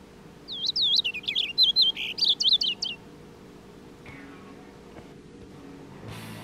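Purple finches at a bird feeder, a rapid series of bright warbling chirps for about two seconds, clear and near, followed by quiet background hum and faint distant noises.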